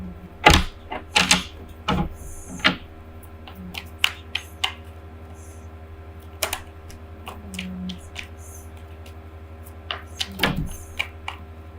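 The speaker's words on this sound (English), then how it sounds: "Too many cards fell out here, so I'm going to put them back." Tarot cards are handled and tapped back into the deck, giving irregular light clicks and soft slaps scattered over steady background hum, close and fairly quiet.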